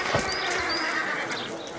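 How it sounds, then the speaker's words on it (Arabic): An Arabian horse is led to a spot for inspection, giving a brief whinny with soft hoof clatter close by amid steady background noise; no one speaks. "حصان عربي جميل وغال أيضا"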